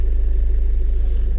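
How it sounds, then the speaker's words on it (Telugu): A Tata Altroz car idles, giving a steady, close, low engine rumble with an even pulsing hum and no other sounds. "నా బండి ఇది టాటా అల్ట్రోజ్."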